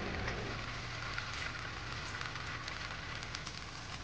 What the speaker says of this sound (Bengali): আমি এবার রসগোল্লাগুলোকে হালকা ফ্রাই করে নেব।